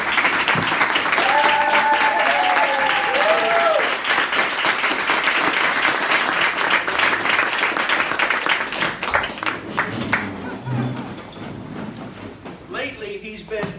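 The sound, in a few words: audience applause at a Toastmasters meeting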